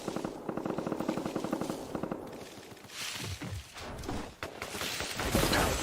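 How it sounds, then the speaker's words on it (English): Rapid automatic gunfire from a Fortnite trios battle royale match, dense bursts of machine-gun fire in the first half giving way to scattered, more distant shots and crackling impacts. "Shots nearby"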